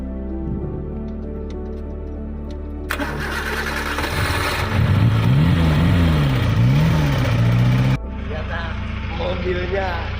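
An antique car's engine cranks and starts after stalling, with a rising whine and rough revving up close that cuts off abruptly, followed by a lighter idle.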